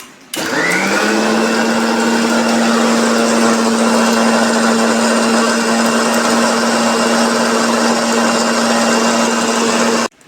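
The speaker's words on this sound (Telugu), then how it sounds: "ఇప్పుడు మిక్సీ అయితే వేయాలా" A mixer grinder blends chopped watermelon for homemade ice cream. Its loud motor kicks in with a rising whine, holds a steady high drone for about ten seconds, then cuts off abruptly.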